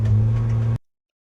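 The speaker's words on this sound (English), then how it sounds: "That's the car engine one." A car engine sound effect: a steady, low engine hum with a strong droning tone, running evenly for under a second before cutting off abruptly into silence.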